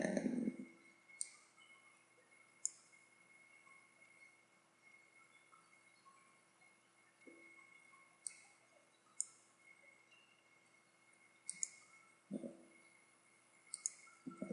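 Computer mouse clicks while working in the Firefox debugger: sparse, crisp, faint clicks spaced irregularly over a quiet background, close to the microphone, with no talk.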